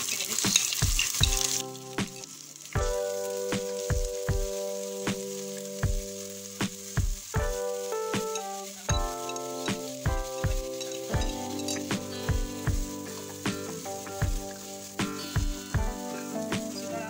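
Onions fry in a pan until brown for a potato chicken curry, a constant close sizzle broken by a steady run of sharp spatula knocks and scrapes against the pan, with no voices.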